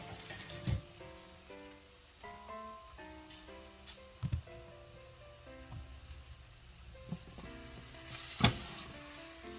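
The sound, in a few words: onion grilling in a pan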